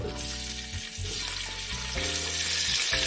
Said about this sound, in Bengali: এবার আমি কুমড়োগুলো একটু ভাজা করে নেব।